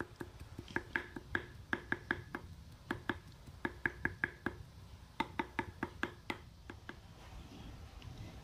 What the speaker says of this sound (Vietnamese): rồi băm cho nó ờ, hơi nhuyễn nhuyễn ra là được rồi đó